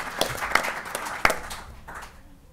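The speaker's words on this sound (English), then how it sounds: "Big clap." An audience at a symposium plenary session breaks into short applause, a scattered patter of claps with a few sharp louder hits that thins and fades out within a couple of seconds.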